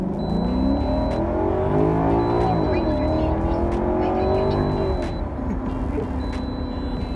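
A Maserati Quattroporte S sedan cruising along an empty stretch of road, its engine giving a steady, loud drone with one smooth rise and fall in pitch midway, alone without talk.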